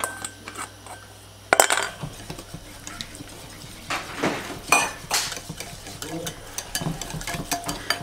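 Six egg yolks being stirred in a bowl for a dessert batter: close, irregular clinks and scraping strokes of a utensil against the bowl, with no talking.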